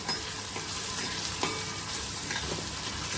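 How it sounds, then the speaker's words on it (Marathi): Onion sautés in a pan for a cluster bean dish, giving a steady close sizzle with a few light spatula scrapes and one sharper clink partway through. "परतून घ्यायची आपला छान कांदा"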